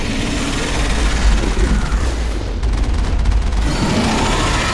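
Gunfire in the sci-fi shooter Mass Effect: a loud, dense stretch of booming shots and rumbling blasts with a sharp rapid burst near the middle, all close.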